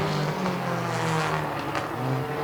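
Race cars in a heat race at TSS roar past, engines droning with shifting pitch as they pass, a loud layered motor sound without voices.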